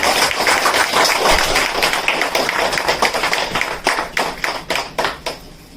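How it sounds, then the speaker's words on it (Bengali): People clapping together at a direct-sales marketing program's award moment, honoring two staff members: close, loud massed hand claps that grow sparser and more individually distinct toward the end. "জোরে হাত তালি সবাই মিলে।"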